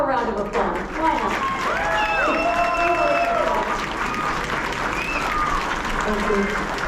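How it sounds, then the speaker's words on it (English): Sustained audience applause and cheering after a high school symphonic spring concert, a dense, steady wash of clapping from a large crowd with scattered voices and shouts mixed in throughout. "Give them one more round of applause."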